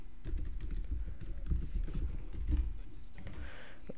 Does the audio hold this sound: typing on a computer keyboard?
yes